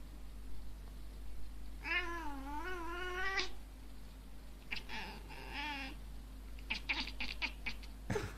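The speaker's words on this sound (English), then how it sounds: "This is just a normal cat so far." A cat meows loudly in long, wavering, caterwauling cries, followed by shorter meows and a few sharp bursts, heard from a video playing in the background over a steady low hum.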